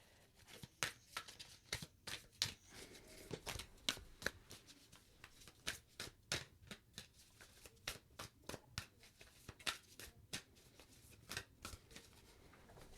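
Decks of playing cards being shuffled by hand, a steady run of crisp riffling snaps and flutters at close range, fairly quiet, with no voices.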